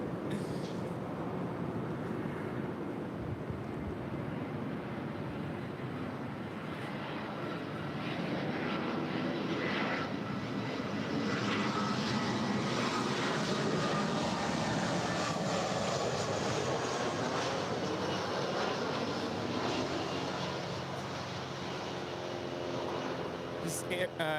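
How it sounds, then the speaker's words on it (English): An 11-year-old Airbus A320 airliner, formerly with Virgin America, lands at LAX, a faint, distant engine roar that swells and fades gradually while people talk over it. "It's an 11-year-old Airbus A320 now landing."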